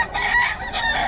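A brood cock rooster crows at a poultry sale, its cock-a-doodle-doo loud and close in two strained bursts with no talking.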